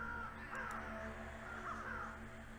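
Crows caw repeatedly in the video game Night of the Rabbit, harsh calls set over a steady low ambient drone with no talking.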